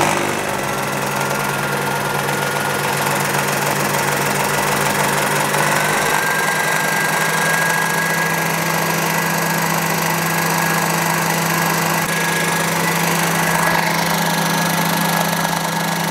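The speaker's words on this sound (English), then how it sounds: "I'm going to center drill the hole first, and then we'll go through with a 5mm twist drill" A Sherline mill motor runs at a steady hum with a constant whine and vibration, center drilling a hole continuously without interruption for the whole stretch.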